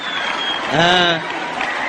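A live audience applauds steadily, with a dense wash of clapping running the whole time while a voice speaks over it.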